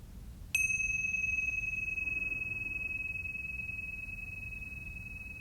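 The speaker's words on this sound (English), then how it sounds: "listen in to the sound of the bell" A single bright meditation bell strike rings out clearly, then sustains a long, pure ringing tone that fades very slowly over several seconds against a low background hum.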